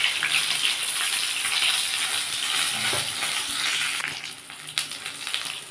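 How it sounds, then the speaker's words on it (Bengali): Eggplant pieces sizzle in hot oil in a pan, a bright, continuous frying hiss with crackles, steady and close, easing slightly toward the end with a few sharp spatters. "আমি এবার ওই তেলের মধ্যে বেগুনগুলো ভেজে নেব।"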